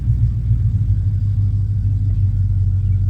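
An LS-swapped 1979 Camaro idles smoothly, a steady, loud, deep engine rumble that holds even throughout with no revving and no speech.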